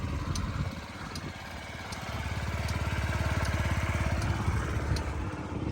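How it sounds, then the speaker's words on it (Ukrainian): A Yamaha Jog SA55 fuel-injected scooter engine idles steadily nearby, a low, even putter with a rapid regular pulse and no voices. "Ідеально чиста робота двигунчика, ніяких зауважень абсолютно не чую"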